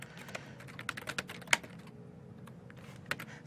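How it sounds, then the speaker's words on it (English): Close computer keyboard typing comes in irregular bursts of sharp clicks. A few keystrokes land harder than the rest, with short pauses between runs and no voices. "I'm being yelled at for typing too loud"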